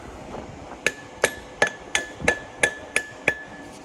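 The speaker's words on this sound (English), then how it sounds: "grab a little smaller hammer" A small hammer taps repeatedly on a Gleaner R72 combine final drive during a rebuild. Eight sharp, evenly spaced metallic strikes ring out up close, with no talking.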